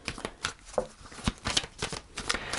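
Tarot cards shuffled and drawn, a quick run of soft riffling flicks and slaps at close range, fairly quiet, with a few faint breaths or murmurs between.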